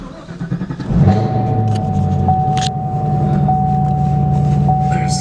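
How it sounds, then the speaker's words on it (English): A 2018 Chevrolet Camaro ZL1 1LE with a six-speed manual cranks and fires up, its engine catching with a loud bark before settling into a steady, rumbling idle that holds close and even to the end. "So here we'll start it up."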